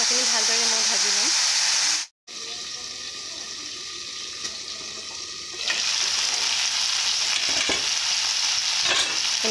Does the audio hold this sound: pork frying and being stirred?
yes